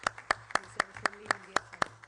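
Applause for the rapporteur at a Parliamentary Assembly standing committee meeting in Rome: a slow, even run of about eight sharp claps, evenly spaced and fairly quiet in a reverberant room.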